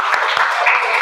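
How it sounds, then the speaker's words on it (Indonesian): A classroom group applauding at the end of a lesson, a dense wash of clapping that fills the short moment, close and fairly loud with faint voices mixed in. "Tepuk tangan."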